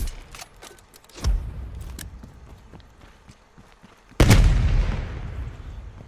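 Gunfire in Black Ops Cold War on the Cartel map, two heavy, close blasts several seconds apart over faint footsteps and light background activity.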